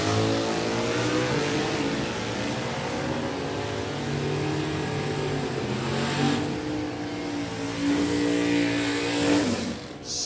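A 1969 Camaro Super Stock drag car with an automatic transmission runs at a Division 3 drag strip, its engine droning steadily and then rising in a long revving pull that stays loud and close with no voices over it.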